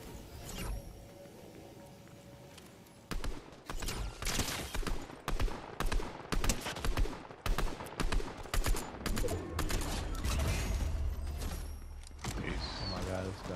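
Rapid bursts of Fortnite gunfire crackle in a rhythmic string of sharp shots, starting after a quiet stretch and continuing loud and close, with a voice talking underneath.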